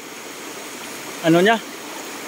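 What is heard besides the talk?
flowing river water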